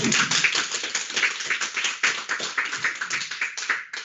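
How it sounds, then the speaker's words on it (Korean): A small group claps together, a steady patter of hand claps filling the whole stretch at moderate volume. "우리 박수 좀 해주시라고요"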